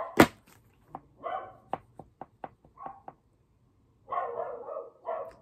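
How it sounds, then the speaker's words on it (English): Several dogs barking in short scattered yips and woofs, fairly close, with a louder burst of barking near the end and no talking. "And those dogs don't shut up."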